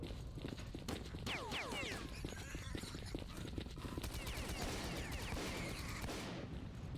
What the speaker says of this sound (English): Did someone shoot me in the butt?